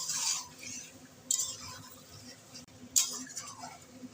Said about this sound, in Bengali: ভালো করে মাংসটাকে একটু নাড়িয়ে চাড়িয়ে নেব।